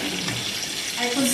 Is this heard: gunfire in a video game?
no